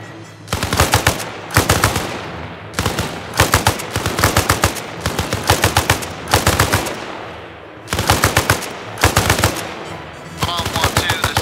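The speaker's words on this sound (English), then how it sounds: "we're keeping up suppressive fire to keep the enemy pinned down on their fucking stomach" Bursts of machine-gun fire laying down suppressive fire in a combat setting, loud rapid volleys in repeated strings of several rounds each, with short pauses between bursts.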